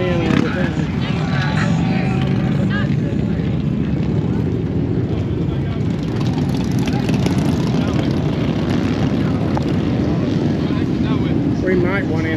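Motorcycles arriving at a hillside bike festival produce a constant loud engine drone and rumble that fills the whole stretch, with steady roar and wind close by and no pauses.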